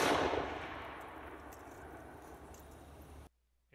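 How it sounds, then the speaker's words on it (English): A small swivel cannon on a frontier fort fires once, a loud blast at the very start that decays into a long rumbling tail before cutting off. "A swivel gun is a small, light, short-range cannon commonly used to defend the walls of a frontier fort."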